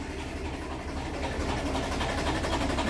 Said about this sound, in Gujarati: ટ્રેક્ટર તો ચાલુ કર્યું ભાઈ